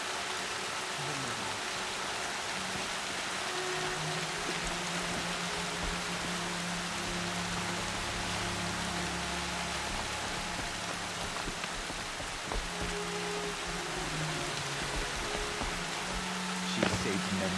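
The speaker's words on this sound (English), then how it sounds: "the rain's not helping with the frames, is it?" Steady rain falls in the video game Horizon Zero Dawn, a dense continuous hiss throughout with faint low game tones and hums running beneath it.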